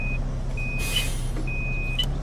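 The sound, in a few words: bus reverse beeper in video game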